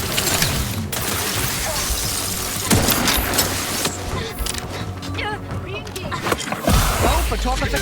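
Rapid gunfire rattles through a firefight in The Outer Worlds 2, bursts of shots and mechanical clatter layered with heavy impacts and rumbling, loud and close throughout.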